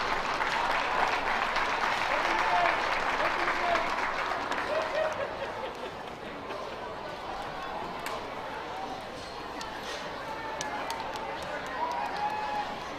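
An audience at a youth fair livestock show claps as exhibitors leave the show ring. The applause is broad and sustained, eases slightly midway, and is mixed with crowd noise and some voices.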